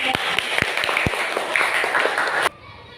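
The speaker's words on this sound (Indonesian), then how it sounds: "Kita kasih tepuk tangan untuk kelompok 3" A classroom of students claps for a presenting group, a burst of scattered hand claps lasting a few seconds before cutting off abruptly.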